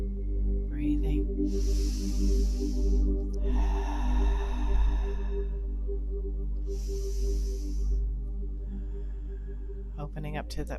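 Slow, deep breaths in a guided tantra meditation: three long, airy inhales and exhales, close and soft, over a faint steady low drone.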